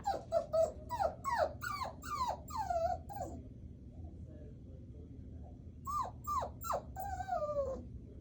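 A puppy whines in a fast run of high, rising yelps, then goes quiet for a few seconds before another burst of whimpers with a low growl underneath, close to the microphone and soft overall.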